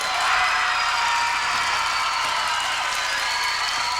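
Standing applause from fans in the stands at the 1992 Illinois high school girls gymnastics state finals, a steady dense wash of clapping filling the arena with no talk.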